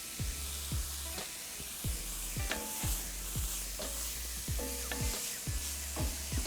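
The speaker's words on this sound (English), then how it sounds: "Now while that's gently sizzling away" Diced onion with a pinch of salt cooks gently in a pan for chicken pie filling, a steady soft sizzle broken by regular scraping stirs of a utensil against the pan.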